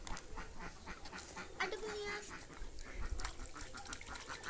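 Ducks paddle and quack on water while a small dog is also nearby. The calls are faint and scattered over a noisy outdoor background, with no clear voices.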